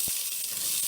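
Sliced onion in hot oil for chana masala gives a brief steady sizzle, a close bright hiss with one soft thump at the start.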